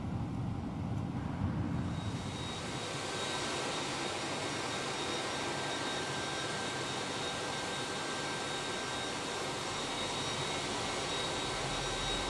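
An IAE jet engine on an Airbus A321 in a flight simulator spools up from its start sequence into a steady, loud whine and roar that holds for the length of the clip.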